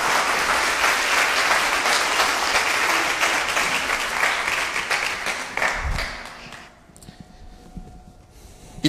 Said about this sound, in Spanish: Démosle un aplauso a mi amigo Josam,